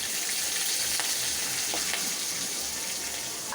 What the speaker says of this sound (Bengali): পেঁয়াজটা হালকা ভাজা ভাজা হয়ে গেছে